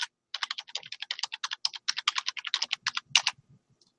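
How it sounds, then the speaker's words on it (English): Rapid keystrokes clatter on a computer keyboard as an email address is typed: a fast, close, even run of clicks for about three seconds, ending in one heavier key press. "I'll type my email again into the chat window here."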